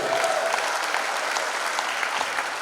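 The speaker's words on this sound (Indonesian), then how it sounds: "Tepuk tangan sekali lagi." Guests at a 70th birthday thanksgiving celebration give a sustained round of applause, dense, even clapping filling the room steadily throughout with a faint tone briefly near the start.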